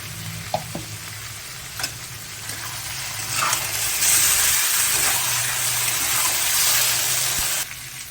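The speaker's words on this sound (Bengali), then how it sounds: "পোস্তটাকে আমি আলুর সাথে ভালো করে ভেজে নিয়েছি" Potatoes and poppy seeds fry in a pan, a soft sizzle with occasional scraping stirs and clinks, then a brighter hiss swells for several seconds before dropping off.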